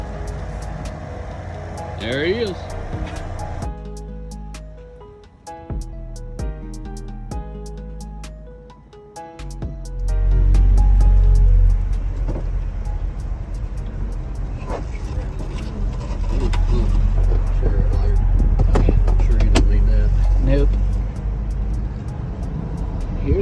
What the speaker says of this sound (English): his new little truck pulling out of the lot to go load it on the trailer